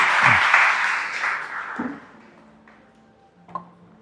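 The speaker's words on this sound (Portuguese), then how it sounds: "Dê uma salva de palmas para Jesus" A church congregation bursts into applause that fades over a couple of seconds, leaving scattered claps and a few faint voices.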